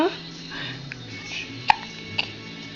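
A person hiccups twice in quick succession, short sharp catches close to the mic over quiet room tone, with soft speech nearby.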